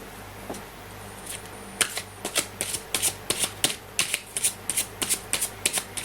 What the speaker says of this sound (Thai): เรามาสับไพ่กันนะคะ